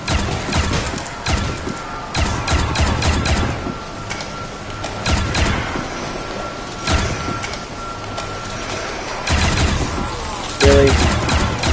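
Rapid bursts of AA-12 automatic shotgun fire in the Roblox zombie game Reminiscence Zombies, a loud, dense barrage of repeated blasts running through the whole stretch with brief pauses between volleys.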